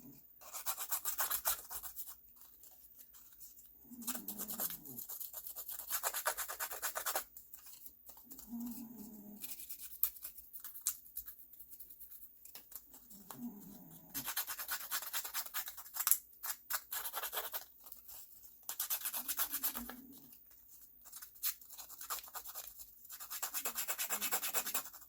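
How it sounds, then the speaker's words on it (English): Paper card edges being roughed up with a craft edger, giving repeated short raspy scraping bursts in a steady rhythm, several strokes spaced across the stretch, close and moderately loud with brief pauses between passes. "I think I'm going to rough up the edges around this. This is just an edger."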